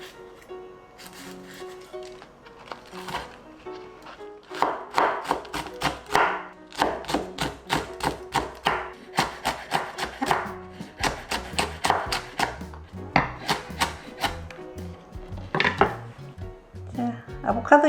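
Knife chopping Cheongyang chili peppers on a cutting board for gimbap, a fast run of sharp rhythmic thuds with short pauses, close and fairly loud.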